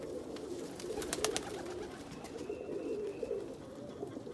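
Young Indian Fantail cock pigeons coo softly in low, repeated throaty phrases, with a few faint sharp clicks in the background and no talking.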